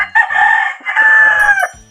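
A young rooster of a native Filipino fighting breed crows once, a loud, close two-part cock-a-doodle-doo lasting about a second and a half, with a brief cluck before it.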